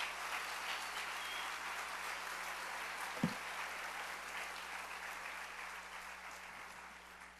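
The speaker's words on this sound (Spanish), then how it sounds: "Denle un aplauso al Rey bendito" A church congregation claps in applause, a soft, steady patter of many hands heard from some distance, continuing without a break under a low electrical hum, with one sharper thump partway through.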